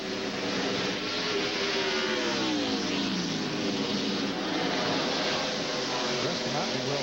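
NASCAR Winston Cup stock cars race at Richmond International Raceway, their engines roaring steadily with rising and falling pitch sweeps as a car powers off the low side of the track.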